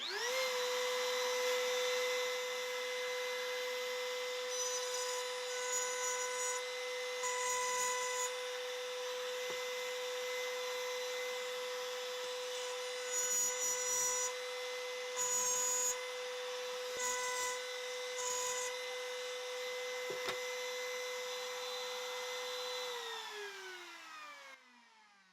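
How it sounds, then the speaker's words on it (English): A power tool cutting a mortise into a wooden jewelry box top runs as one steady, loud whine for about 23 seconds with brief dips in load, then winds down at the end. "here I am going to put the mortise in the bottom of the top for the top"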